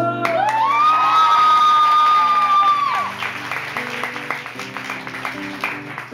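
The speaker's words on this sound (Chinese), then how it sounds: "掌声！" A live concert crowd at a show in Hualien claps and cheers, loud and close, with a long sung note ringing over the first half before the applause and whoops continue alone.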